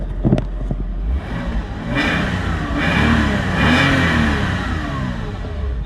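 A Porsche Boxster 986 engine revs hard several times, rising and falling in pitch with a loud, close growl and no talking.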